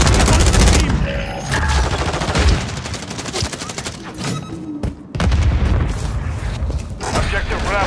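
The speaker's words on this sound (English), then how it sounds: "Throwing grenade!" A grenade blast and bursts of gunfire in a Call of Duty Modern Warfare 3 multiplayer match on PC, loud and dense, with heavy booms and rapid rattling shots layered under game voice callouts.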